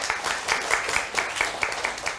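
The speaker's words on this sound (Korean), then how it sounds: "박수 한번 쳐주세요" Audience applause at a talk on buying an apartment, a short steady burst of clapping heard at moderate distance without speech.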